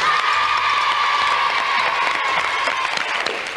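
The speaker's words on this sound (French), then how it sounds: "Et on les applaudit" Studio audience applause and some cheering on a French children's TV show, a continuous wash of clapping that stays loud and fades a little toward the end.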